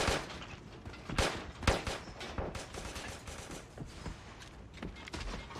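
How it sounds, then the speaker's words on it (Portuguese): Gunfire in the video game Creative Destruction crackles in bursts of rapid shots and scattered single cracks, some sharp and near, others more distant, continuing throughout without talk. "Tem tiros, capitão, na tua esquerda."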